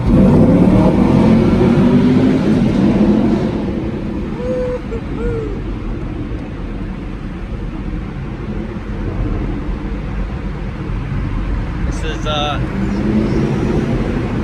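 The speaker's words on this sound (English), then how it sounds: "you get to hear the true noises of your car" A 2019 Camaro SS engine rumbles loudly with a deep low drone, easing off after a few seconds, echoing inside a tunnel, with voices talking over it.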